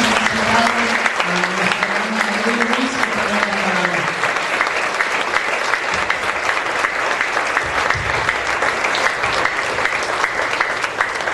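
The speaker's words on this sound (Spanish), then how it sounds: "me acompañe a dar un fuerte aplauso al Señor" Sustained applause from a large church congregation fills the whole stretch, dense and steady, with a voice briefly audible underneath at the start.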